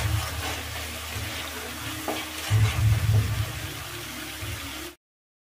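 A spoon stirs turmeric through hot oil in a frying pan while making a vegetarian besan pakoda curry, with a steady close sizzle and soft scraping strokes that go on for about five seconds before cutting off.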